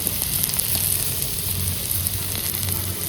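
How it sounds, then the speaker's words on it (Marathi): Potatoes fry in oil with salt and spices, giving a steady, close sizzle with light stirring throughout and no talking. "आपल्या बटाट्यावरती तेल मीठ मसाला सगळं टाकून झालं या. आणि बघा कसं चाललंय परतायचं."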